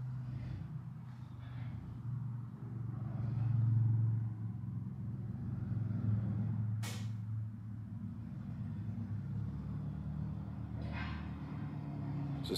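A 1989 Range Rover Classic SWB driving on country roads, heard as a steady low engine and road rumble from inside, swelling briefly, with a few faint clicks and knocks.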